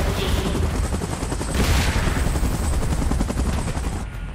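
A helicopter in PUBG Mobile, a loud dense rotor chop and engine roar close by, with bursts resembling gunfire mixed into the continuous heavy noise.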